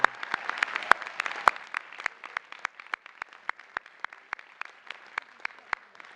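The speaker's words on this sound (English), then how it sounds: "let's have another round of applause for all of our honorary degree recipients today" Audience applause at a college commencement ceremony for honorary degree recipients, steady distinct claps, fairly sparse and moderately distant, continuing evenly for several seconds.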